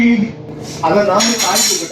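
Dishes and cutlery being washed in a canteen clatter and clink nearby in a busy jumble, with a voice murmuring underneath.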